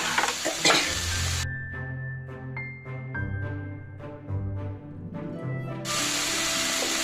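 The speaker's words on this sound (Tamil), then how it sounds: "சிறிது நேரம் வதக்கட்டும்." Mushroom gravy sautéing in a pan, a soft sizzle with stirring scrapes, opening and closing with brighter frying noise around a quieter stretch with a humming tone underneath.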